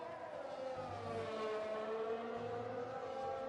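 A Formula 1 race car in F1 2020 at the Netherlands circuit, its engine holding a steady high whine down the start-finish straight, continuous and moderately loud with no talk.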